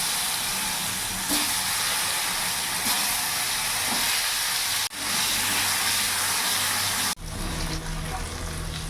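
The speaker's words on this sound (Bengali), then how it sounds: "ওই তেলের মধ্যে আলুগুলো ভেজে নেব।" Potatoes frying in mustard oil left over from frying fish in a wok, a steady close hissing sizzle with light clinks and stirring, broken by two abrupt cuts where the hiss drops out and resumes.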